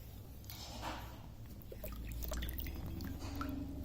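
A phone sealed in a waterproof case is dipped into water, giving faint sloshing and dripping splashes that are quiet and close.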